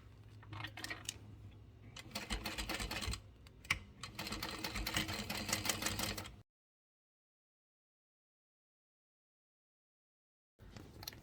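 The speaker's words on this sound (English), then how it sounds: "That is top stitched on both sides." A sewing machine topstitching fabric in two close, steady whirring runs split by a brief stop, followed by a long silence and a short final burst of stitching.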